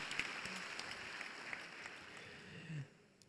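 Audience applause for the health ministry at a health sector achievements event, a steady mid-distance patter of many hands with a brief voice rising near the end.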